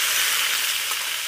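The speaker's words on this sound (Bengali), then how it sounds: "সবজিটা আমি কম আছে একটু ভালো করে ভেজে নেব, কারণ ফুলকপির ডাঁটা আছে তাই।" Mixed winter vegetables with cauliflower stalks fry in hot oil, giving a continuous, close, even sizzle.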